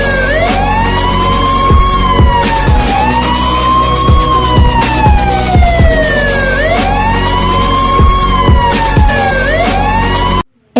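A loud wailing ambulance siren rises and falls in repeated sweeps close by, with traffic rumble beneath, then cuts off abruptly at the end.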